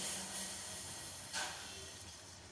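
Milk boiling in a pot on a medium flame for sweet pongal gives a faint, steady frothy hiss with a brief swell partway through.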